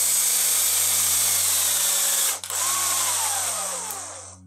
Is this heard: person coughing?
no